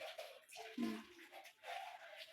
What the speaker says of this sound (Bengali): এই যে রসুন, আদা, এই যে পেঁয়াজগুলো আমি ধুয়ে নিচ্ছি